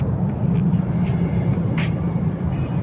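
Motorized tricycle passing on the road, heard from a moving motorcycle as a rumbling engine drone amid loud road and wind noise, with brief hissy bursts.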